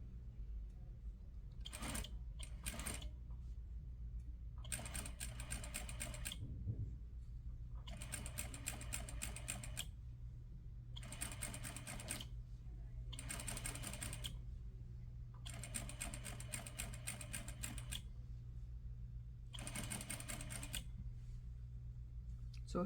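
A sewing machine stitches a set-in sleeve in repeated bursts of several seconds each, separated by short pauses, close and steady over a low constant hum.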